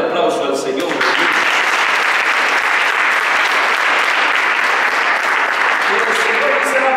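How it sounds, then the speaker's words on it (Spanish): Church congregation applauding during an evening worship service, a steady, dense wash of clapping that holds loud and even for the full stretch, with no pauses. "Denle el aplauso al Señor."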